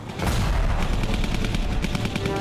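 Dense, continuous gunfire and explosions during a Japanese air raid on Darwin, a steady loud roar of rapid shots and booms with no let-up.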